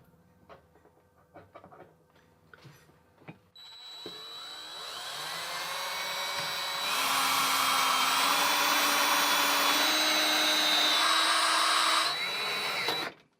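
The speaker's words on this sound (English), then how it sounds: "I'm just gonna take a drill and drill in through this sheet metal 3 more holes" A power drill bores through a stove's sheet metal: a steady high whine starts after a few seconds of light clatter, grows louder and grinds on continuously for about nine seconds before cutting off.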